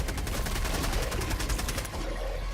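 Steady automatic fire from a deployed sentry turret in Helldivers 2 rattles on loud and continuous in a dense stream of rounds, easing off slightly near the end.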